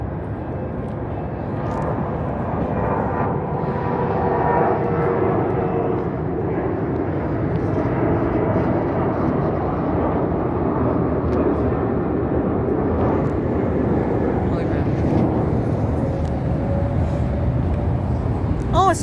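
Steady, loud broadband roar of a French Air Force Boeing 767 passing overhead, sustained throughout with a slight swell midway, heard outdoors at close range with people's voices over it.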